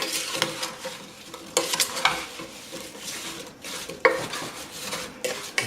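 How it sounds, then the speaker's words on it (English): Spoon scraping and stirring sliced apples coated in sugar, spices and cornstarch inside a pot on the stove for stovetop apple cobbler, with repeated close scrapes and soft sizzling in uneven bursts, no talking. "Stir this in to coat our apples pretty well."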